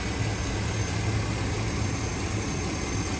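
A 2004 Chevy Avalanche Z66 pickup truck engine idles close by, a smooth low hum under broad constant noise, with no voices.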